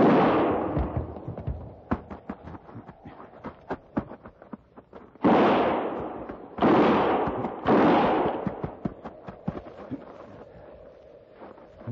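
Old-time radio drama gunfire effect: a rapid volley of sharp cracking shots followed by several heavy booming blasts with echoing tails, loud and close, no talk over it.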